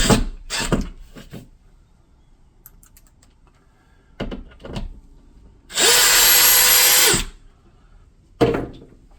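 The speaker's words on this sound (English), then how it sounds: "we'll go ahead and we'll drill our hole." A power drill drilling a hole in a wall whirs in one loud, steady burst of about a second and a half, surrounded by quieter knocks and handling sounds.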